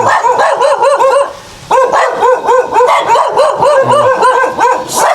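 A dog barks repeatedly in quick, loud bursts, with a short pause partway through before the barking resumes.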